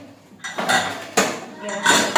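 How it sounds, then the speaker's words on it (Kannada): A cooking pot is set down and positioned on the stove in a home kitchen to prepare a spice tempering, giving several close, fairly loud metallic clanks and scrapes spread across about two seconds. "ಇವಾಗ ಒಗ್ಗರಣೆಗೆ ರೆಡಿ ಮಾಡ್ಕೊಳ್ಳೋಣ. ನೋಡಿ, ಇದೊಂದು ಈ ಥರ ಪಾತ್ರೆ ಹಾಕಿ"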